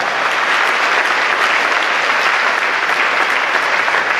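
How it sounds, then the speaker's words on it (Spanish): A church congregation at a charismatic archdiocesan congress breaks into loud, sustained applause, a dense wash of clapping that fills the whole stretch. "Den ese aplauso maravilloso al Señor que nos regala hoy esta palabra."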